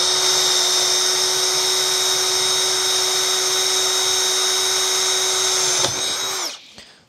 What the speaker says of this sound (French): le perçage, avec une pièce de médium, j'utilise un foret de 10 mm de diamètre et on va voir tout de suite ce que ça donne